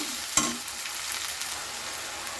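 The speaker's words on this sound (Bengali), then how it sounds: "মাছের মাথা যেটা কষা করছি" Fish head masala being fried in a pan for a fish head curry, a steady close sizzle with a brief clatter near the start.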